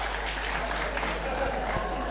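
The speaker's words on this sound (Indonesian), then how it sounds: "Ya, tepuk tangan dulu untuk cicak." Applause from an audience at a religious lecture held for prison inmates, a faint, fairly even patter of clapping heard from a distance, with no clear talk over it.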